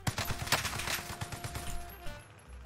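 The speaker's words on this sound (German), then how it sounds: "Schießt ihr auf mich?" Rapid bursts of gunshots fired toward the player in the Warzone video game, a fairly faint stuttering volley of sharp cracks with a thin tonal hum underneath that tapers off near the end.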